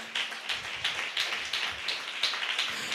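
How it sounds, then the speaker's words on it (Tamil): A church congregation claps their hands together, a steady run of sharp, fairly close claps filling the hall in irregular bursts with no talking over it. "நல்ல கைத்தட்டி அவருக்கு ஒரு நன்றியை சொல்லுங்கள்."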